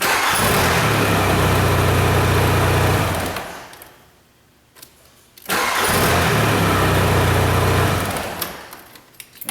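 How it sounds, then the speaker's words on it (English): A Volkswagen Jetta with a no-crank, no-start fault cranking with the clutch out: two loud, close bursts of rhythmic starter churning, each about four seconds, separated by a brief quiet gap. "Now I'm just going to crank with the clutch out."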